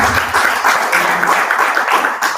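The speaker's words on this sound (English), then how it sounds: "can we give her a round of applause, please?" A conference audience claps for a speaker at a roundtable session, a steady, dense burst of applause that stays even throughout the short stretch.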